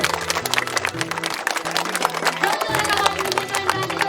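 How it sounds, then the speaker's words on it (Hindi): A crowd applauding loudly at the opening of a Teej program, dense continuous clapping over steady background music, with scattered cheers mixed in. "सब जनी जोरदार ताली बजाई दियो।"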